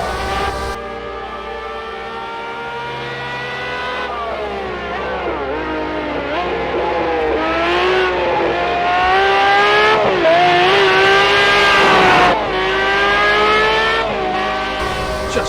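A 1988 Jaguar XJR-9 Le Mans race car with a naturally aspirated V12 revs loudly and continuously, its pitch climbing and falling in repeated sweeps as it pulls hard, close and alone with no voices.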